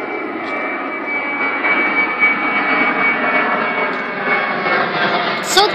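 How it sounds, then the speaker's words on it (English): An airplane moving at Phoenix airport gives a loud, steady jet engine roar that stays close and continuous throughout, with no talk. "Where is that plane going?"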